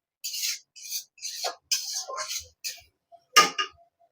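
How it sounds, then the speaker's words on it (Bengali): A utensil scrapes and stirs masala frying in a pan for prawn coconut curry, making a series of close, rhythmic rasping strokes separated by brief pauses. "এইভাবে নাড়িয়ে চাড়িয়ে মশলাটাকে আর একটু কষে নেব।"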